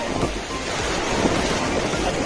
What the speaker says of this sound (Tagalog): Ang lakas-lakas ng alon.